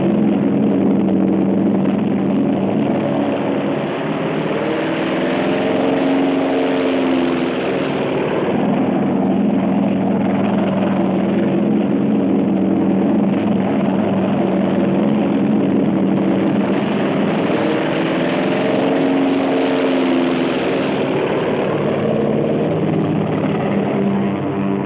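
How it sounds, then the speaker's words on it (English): American carrier planes taking off, heard as a steady, loud, droning roar of aircraft engines. The roar swells slightly and then holds without break throughout, with no speech. "In the pre-dawn, the American carrier planes take off."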